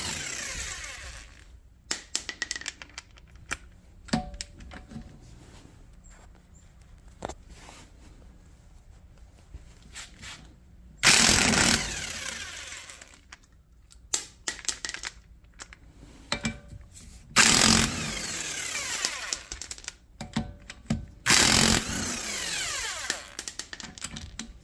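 Impact power tool spinning wheel lug nuts off a 2015 Honda CR-V with a 19mm socket, loud bursts of whirring in a few separate runs between quieter clanking and handling noises in a garage.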